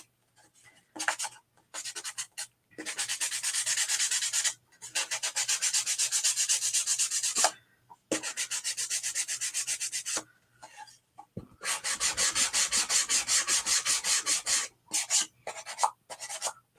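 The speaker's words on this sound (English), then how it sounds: "And then I'm going to go ahead and sand the edges." Sandpaper rubbing the edges of a small wooden chalk sign tag, a close run of rhythmic scratchy strokes in long bursts broken by short pauses, with no talking.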